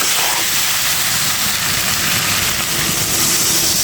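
Steady loud sizzling hiss fills the whole stretch as water hits hot oil in a pan of frying bitter gourd and tengra fish curry, a continuous broadband spatter with no talk.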